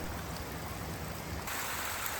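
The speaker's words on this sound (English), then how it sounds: "Walking along the trail, the murmur of the water was our constant companion" Steady broadband rush of a stream flowing beside a forest trail leading to waterfalls in the remote Tzoumerka mountains of Greece, a continuous even murmur with no voices.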